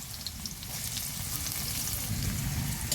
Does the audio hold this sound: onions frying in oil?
yes